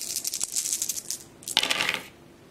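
Fight dice from the Last Night on Earth zombie board game clatter and rattle in two quick bursts, a brief tumble followed by a longer rolling spill, close and fairly quiet with no talking.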